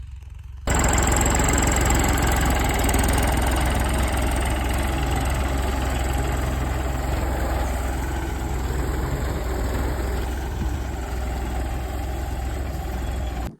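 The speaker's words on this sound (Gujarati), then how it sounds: "અને ટ્રેક્ટર આપણું અડધે પૂગી ગયું છે। જોઈ આવી કેવી રીતે હાલે છે।" A tractor runs steadily in a groundnut field, a loud, close, continuous low diesel drone with a faint high whine on top, unbroken for the whole stretch with no talk.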